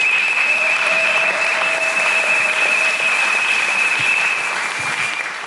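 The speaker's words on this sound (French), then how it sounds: "Sans doute, acclamons pour la parole de Dieu." A church congregation applauds steadily and loudly throughout, a dense wash of clapping with a sustained tone running underneath, fading slightly at the end.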